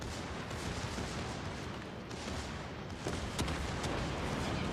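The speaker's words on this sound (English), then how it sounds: "Let's take out the Jurien with our secondaries." Secondary guns of the battleship Mikasa fire at a Jurien in World of Warships, a dense rumbling barrage with scattered sharper cracks, steady and fairly faint throughout.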